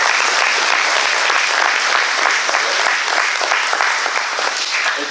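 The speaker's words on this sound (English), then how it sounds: "Let's give everybody a big applause." A dense, loud round of applause from the members at a farmers' co-op annual meeting, continuous clapping from a full room with no voices rising above it.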